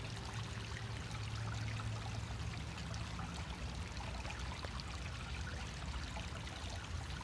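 Clean water rushing and pouring through a waste holding tank during a flush, a steady close gush of running water with a constant trickling wash throughout, no voices.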